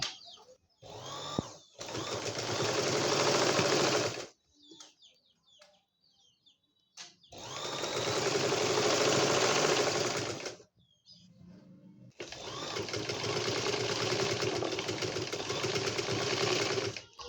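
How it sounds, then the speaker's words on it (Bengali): Sewing machine stitching lace onto the neckline of a baby frock, running in three long loud bursts with short quiet pauses and faint handling noises between them. "নিব হাতা জোড়া লাগানো শেষ এখন আমি গলার মধ্যে লেস লাগাবো"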